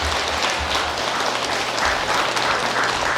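Steady, dense applause fills a temple hall as a Buddhist congregation claps for a monk after his Dharma talk, continuous and even throughout with no voices over it.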